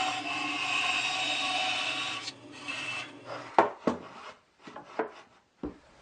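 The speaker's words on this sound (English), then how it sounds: "So I'll just do that while it's assembled on the bandsaw." A bandsaw cuts a profile into the top part of a shop-built 6x48 inch belt sander: a steady, close rasping whine for about two seconds, then the cut stops and a few sharp knocks and clunks of handling follow.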